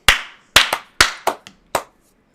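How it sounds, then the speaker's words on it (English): Several sharp hand claps sound close and loud in a quiet room, six distinct slaps spread unevenly over about two seconds, each ringing briefly before silence, with no talking. "Let's clap in 3, 2,"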